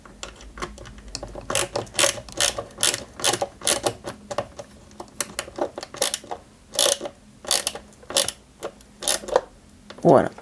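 A small screw is driven by hand into a 1/8 scale Citroën 2CV AZLP model, making a series of close, rhythmic clicking ratchet-like bursts that repeat unevenly and end with a brief squeak.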